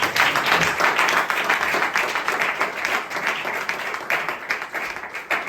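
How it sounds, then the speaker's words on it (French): A church congregation applauding loudly and steadily throughout, a dense wash of many hands clapping with no voices audible. "Alors vous acclamez pour vous-même si c'est possible."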